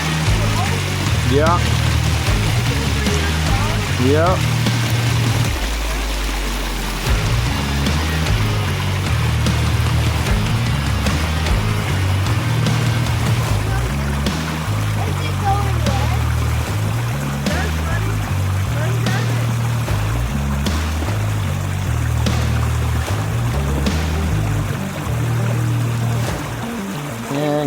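An RC Jeep CJ7 crawler on an SCX10 III chassis churns through a river crossing, its motor whirring over splashing, trickling water, while someone talks briefly nearby.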